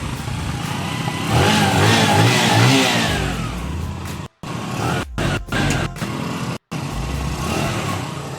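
A Bajaj Boxer 150 motorcycle engine runs close by and revs up, rising and falling, then cuts out in several brief drops, as if starved of fuel, before catching again.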